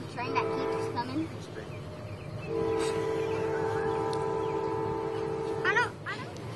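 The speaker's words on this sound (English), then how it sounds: "is it because of the big train that keeps coming?" A train rumbles steadily while its horn sounds in long sustained blasts, with people talking over the noise nearby at a model rocket launch.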